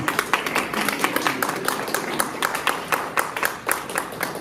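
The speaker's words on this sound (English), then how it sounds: "Let's give her an applause." Audience at a children's empowerment summit claps in a light, scattered burst of applause, close and steady for several seconds.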